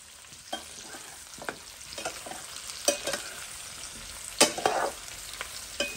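Onions fry in a pan under a steady soft sizzle while a utensil stirs and scrapes them, producing repeated sharp clinks and scrapes at irregular intervals, close and clear.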